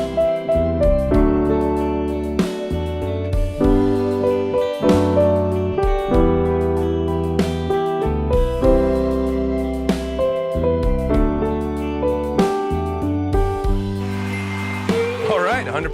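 Piano playing the chorus of a song in an intermediate arrangement, steady chords and melody notes ringing with sustain, close and full, without talk.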